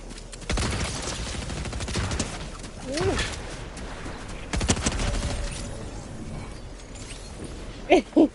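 Submachine gun fire in a video game arrives as scattered short bursts over a busy background with chirping birds, ending in a louder pair of rapid shots.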